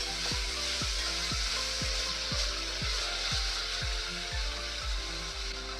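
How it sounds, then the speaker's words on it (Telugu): Chopped tomato pieces cooking with onions in a pan for uggani, a dense continuous sizzle with a steady run of regular soft knocks beneath it and no talk. "చిన్నగా తరుక్కున్న టొమాటో ముక్కల్ని వేసి బాగా మగ్గనివ్వండి"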